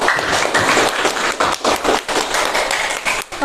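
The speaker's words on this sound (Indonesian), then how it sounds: "Tepuk tangan untuk semua." A classroom of students claps together, a dense, close patter of applause with uneven bursts and brief dips lasting a few seconds.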